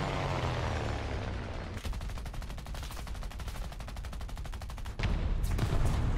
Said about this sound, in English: Oh, wow, look at Cone getting shot at.